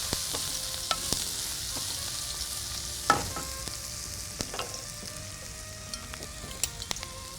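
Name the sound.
onions sautéing in oil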